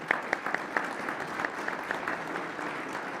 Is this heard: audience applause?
yes